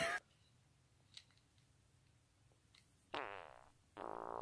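A fart in a quiet room, heard as a loud, rasping, buzzy blast that drops out briefly and then resumes, with a short burst of sound at the very start and a faint click before it.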